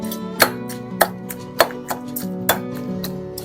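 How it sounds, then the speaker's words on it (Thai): Tomatoes pounded into a chili paste for Isan-style jaew with fermented fish sauce, a pestle thudding into a mortar about every half second, close and loud with a short ringing knock on each strike. "ก็ให้เรานำมะเขือเทศมาใส่ได้เลยค่ะ แล้วเราก็โขลกให้เข้ากันอีกครั้งหนึ่งนะคะ"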